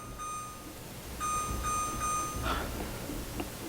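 An LG stove control panel sounds a string of short, clear electronic beeps, a few in quick succession, fairly close over a quiet room.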